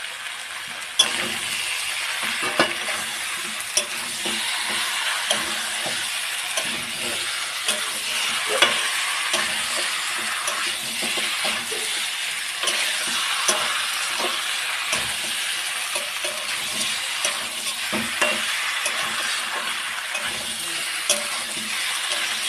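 Fried potatoes stirred into a chicken curry as it fries in the pan, a low steady sizzle with repeated soft scraping and knocking from stirring throughout, no voices.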